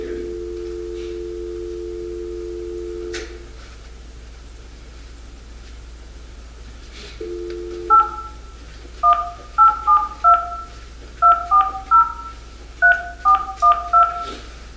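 Telephone keypad tones while a dropped call is redialed: a held two-tone signal, a pause, then a rapid series of short touch-tone beeps over a low steady hum.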